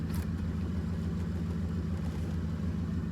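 A vehicle engine idles steadily nearby after a long repair, a constant low rumble with an even pulse and no voices.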